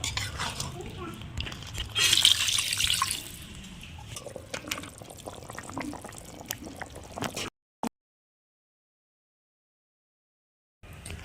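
Water is poured into a pan of Kashmiri potato curry (aloo dum), a splashing, bubbling fill under a voice for several seconds before the sound drops out into silence.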